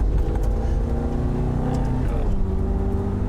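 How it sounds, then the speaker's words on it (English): Car engine revving hard through a severe downshift, a loud sustained mechanical drone with shifting harmonics that steps in pitch partway through, running continuously under the cabin noise. "That's a really severe downshift."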